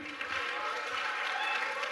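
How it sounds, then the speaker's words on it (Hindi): Steady applause from a seminar audience at IIT Delhi, dense and even clapping that fills the whole stretch at a moderate distance. "एक बार दोनों के लिए दो जोरदार तालियां"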